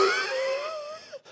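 A voice imitates the wheezing, whistling breath of an asthma attack: a strained, high-pitched exhale that wavers and falls, followed by a short gasp, close and alone.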